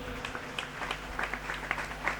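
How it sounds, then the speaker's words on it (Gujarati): A church congregation claps together in a brief burst of scattered, moderately close hand claps over a low background hum. "તાળી તો પાડીએ."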